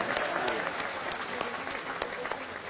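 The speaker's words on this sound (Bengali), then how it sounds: "জোরে হাততালি দিয়ে" A crowd at a BNP political rally claps in steady, dense applause that holds at an even level throughout, heard from a moderate distance.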